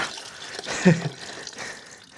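A short burst of splashing, gushing coolant water draining from a motorcycle, brief and fairly close, then tapering off into quieter trickling.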